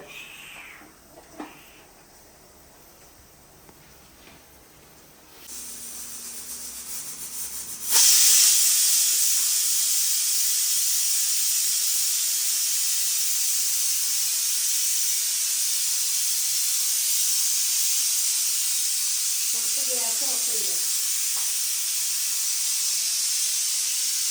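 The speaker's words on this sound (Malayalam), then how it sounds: "ഇനി അത് ആവി പോയതിനു ശേഷം നമുക്ക് തുറന്നിട്ട്" Steam hisses steadily from a puttu steamer making yellow puttu in a home kitchen, quiet at first, then a loud broad rush that swells around the eighth second and holds on without a break, with a faint brief clink near the end.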